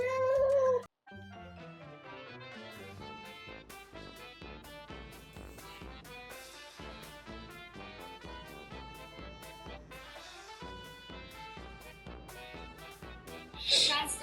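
A cat meows several times in short, close bursts over a stretch of lively, bright music, the calls sitting clearly among the playing notes.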